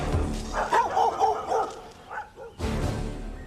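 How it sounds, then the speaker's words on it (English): Vicious guard dogs trained to attack, barking and yipping in a quick burst of several barks, fairly close and loud, followed by a rush of noise. "Our specially equipped surveillance unit was repelled by vicious guard dogs trained to attack on sight."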